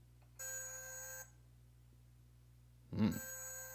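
A toy geological tricorder gives off electronic alert tones: a bright buzzing multi-tone burst, a pause, then a second louder burst with a low thump at its start, close and clear.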